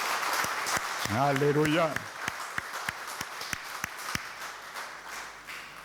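A church congregation acclaims Jesus with steady rhythmic clapping, close and fairly loud, while a voice sings out briefly over the start and a speaker talks in French.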